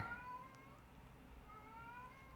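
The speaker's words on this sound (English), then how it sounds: "Yeah, that's a cat." A cat meows a few times, thin and fairly faint, over a low steady room hum with no talking.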